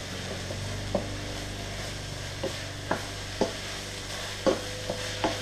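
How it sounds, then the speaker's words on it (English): Ground turkey with sesame oil and sauces is stirred in a pan over a steady sizzle, with several sharp utensil knocks against the pan at irregular moments and no voice. "And now I'm going to also add in my sesame oil. And give that a quick mix."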